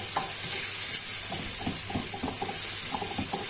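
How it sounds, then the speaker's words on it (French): Chopped onions and garlic fry in oil in a pan, giving a strong, continuous close sizzle with scattered soft stirring scrapes and small pops throughout. "Après avoir découpé mes oignons et mon ail, je vais le mettre dans ma poêle."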